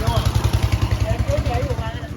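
Longtail boat engine on a rural Thai canal chugging in a steady, rapid low pulse, fairly close and loud, with faint voices over it.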